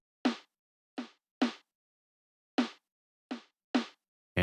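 Snare from a track layered with a splice pack snare, cracking out seven sharp, bright hits with quick decays in a loose pattern, dry and alone.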